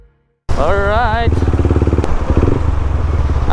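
A motorcycle fitted with a quick shifter revs loudly up close, its pitch rising and falling as it rides, with a burst of rapid putters and a voice briefly over it.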